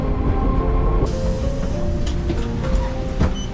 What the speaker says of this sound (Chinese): 这是1号线的路面线路电车